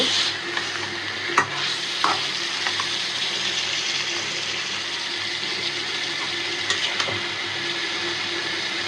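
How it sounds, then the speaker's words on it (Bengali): Chicken with spices stir-fried in a pan, a loud continuous sizzle close by, broken by occasional sharp clicks and scrapes of a spatula against the pan. "গুঁড়ো করে গুঁড়টা ভালো করে কষাইয়া পরে একটু কাঁচামরিচ আর দুধ দিয়ে দিব"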